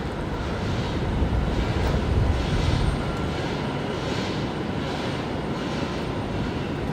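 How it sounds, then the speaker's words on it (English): A China Airlines Airbus A350-900 lands at Brisbane Airport at night, a steady broad jet roar swelling slightly and then holding, distant and continuous with no voices. "We are going to see China Airlines coming in first, however, here on runway left."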